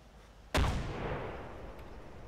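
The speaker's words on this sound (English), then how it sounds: "I'm pinned down by MMG fire" A single heavy report from a medium machine gun in the military video game Arma 2 cracks loudly once, then leaves a long reverberating tail that slowly fades into a steady background rumble.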